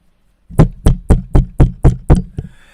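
Knocking on a door during a told story: seven firm, evenly spaced knocks, close and loud, followed by a softer eighth tap and silence.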